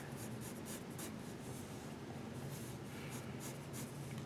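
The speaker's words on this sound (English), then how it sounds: "So we're just sketching without defining anything." A pencil sketches a loose gesture figure on paper, giving a soft continuous scratching with light rhythmic strokes, close and quiet.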